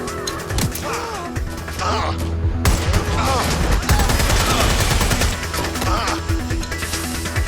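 Rapid gunfire from the video game Watch Dogs: Legion, dense bursts and booms layered with game effects and some vocal sounds, loud and continuous throughout.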